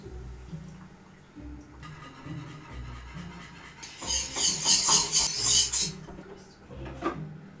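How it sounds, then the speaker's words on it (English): Lemon soufflé mixture being whisked in a pan, a steady close rasping and scraping that grows louder and busier midway before easing off, with no talking. "I'll switch to a whisk."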